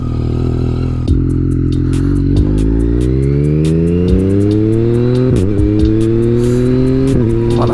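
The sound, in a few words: Yamaha MT-09 A2 restricted three-cylinder motorcycle engine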